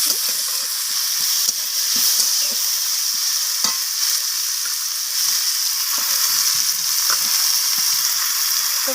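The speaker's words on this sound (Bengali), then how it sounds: "তো সমস্ত কিছু নাড়াচাড়া করে আমি ভেজে নিচ্ছি।" Chopped onions stirred and fried in a pan for a chicken dish, giving a steady close sizzle with frequent soft scraping stirs throughout, no voices.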